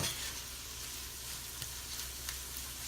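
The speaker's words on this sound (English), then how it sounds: "And we're going to add our cabbage. Butter's sizzling. You could probably hear it." Butter sizzling with chopped cabbage in a hot pan, a steady broadband hiss with a few soft clicks and pops, close and fairly quiet, with no talking.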